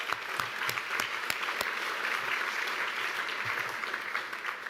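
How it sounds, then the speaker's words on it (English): Audience applause at a 2007 film awards ceremony: dense, steady clapping from a full crowd filling the whole stretch at an even level, with a few sharper claps standing out near the front. "please join me in a round of applause for these wonderful films"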